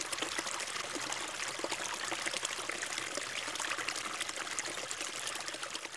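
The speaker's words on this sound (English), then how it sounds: "This is the Tinto River, in the southeast of the Iberian Peninsula, 90 kilometers of reddish-colored waters" Reddish water of the Tinto River in the southeast of the Iberian Peninsula flows in a steady broadband rush and trickle, constant and fairly close, with no voices.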